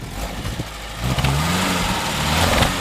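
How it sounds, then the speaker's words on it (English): A 1956 Mercedes-Benz 190SL heard from behind at its exhaust: a low, steady idle burble that lifts slightly in a gentle rise partway through, close and continuous. "Walk around the back, not much to hear, but a little exhaust note."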